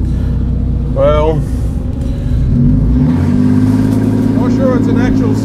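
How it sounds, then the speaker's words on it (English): A car engine revs loudly and steadily during a skid attempt on 13-inch wheels, a sustained rumbling drone with rising pitch sweeps throughout, and a voice talks briefly over it. "I'm gonna do a skid this time."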